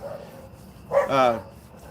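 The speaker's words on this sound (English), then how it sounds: "The neighbors' dogs are lovely." Neighbors' dogs let out a short burst of barking and yipping, somewhat distant, rising briefly for about half a second over a quiet background hum.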